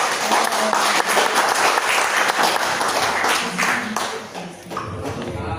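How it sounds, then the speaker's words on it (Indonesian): Audience applause at an Indonesian-language talk or sharing event, a dense, sustained burst of many hands clapping that eases slightly near the end, with no talk over it. "Tepuk tangan sekali lagi Ibu untuk Ibu Christine."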